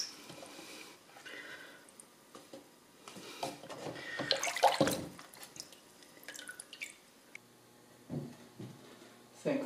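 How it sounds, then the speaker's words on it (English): A small circuit board is lowered into a tray of water to soak off paper. Faint drips and a brief splashing burst mid-way sit over a quiet, hushed room. "And into the water to remove the paper."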